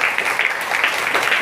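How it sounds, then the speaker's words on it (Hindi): Students in a classroom clap together in a brief, steady burst of many overlapping hand claps, close and fairly loud, with no talking over it. "तालियां बजा दो"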